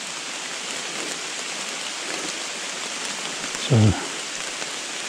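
Steady rain falls through a forest, a dense, even hiss on leaves and ground that runs throughout, with a brief low thump partway through and a faint voice barely present.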